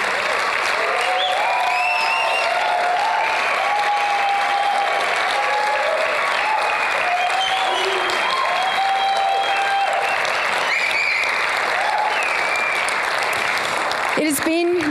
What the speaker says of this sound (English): the Botshabelo team, those that are here tonight, deserve a massive round of applause